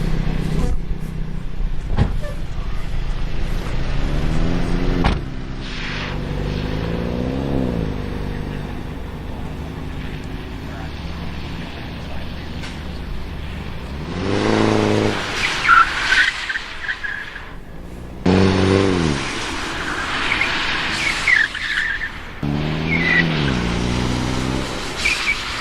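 A BMW driven at a performance driving school skids in oversteer with the hand brake pulled. The engine hums steadily, then loud tire-squealing bursts arrive in the second half, close and sustained, with no talk.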